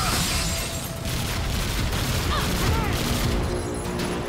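A grenade explosion in the Fuse video game, a loud sustained roaring blast with crackling debris and gunfire mixed in, the noise staying dense and heavy throughout.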